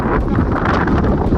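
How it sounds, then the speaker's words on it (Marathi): Strong wind buffets the microphone on a hilltop by a temple at Shikhar Shingnapur, a steady, loud, rumbling roar with gusty surges and no break. "तुम्हाला माझा आवाज येत नसेल कारण की एवढं वारं सुटलंय ना इथं"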